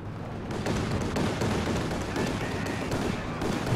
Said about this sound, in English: Here comes a tactical IL-2 strafe.